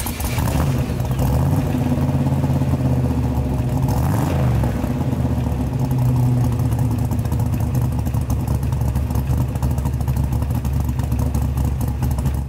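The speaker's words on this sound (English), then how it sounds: "Side exit exhaust. And it sounds really killer" A 1970 Chevrolet C10 restomod with an LS V8 and side exit exhaust produces a steady, close engine rumble with a brief swell partway through, running without voices.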